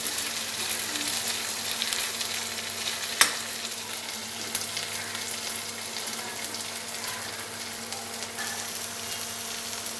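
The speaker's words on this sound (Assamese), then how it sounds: "আদা আৰু নহৰু এইখিনি মই অকণমান দেৰি ভাজিম" Onion, ginger and garlic paste frying in a pan, a steady close sizzle with faint crackles and one sharp clink of a utensil partway through, no talking.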